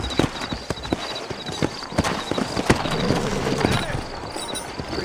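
Rhythmic clip-clop of horse hooves at a walk in Red Dead Redemption Remastered, close and steady, with faint background ambience and occasional soft thumps.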